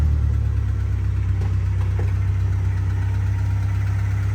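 A Honda Civic EK with a VTEC engine and an aftermarket exhaust idles steadily, a loud, even low-pitched rumble with a constant throb and no voices over it.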